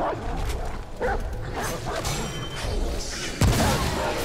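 A companion dog barks repeatedly amid dense combat noise in the video game Remnant, with a sharp crash near the end.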